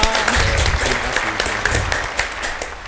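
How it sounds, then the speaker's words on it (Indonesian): Audience applause at a high school student council event in Indonesia, a steady round of clapping lasting a few seconds at moderate loudness. "Tepuk tangan dong."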